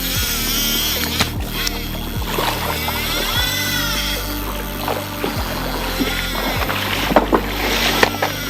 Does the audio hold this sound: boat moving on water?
yes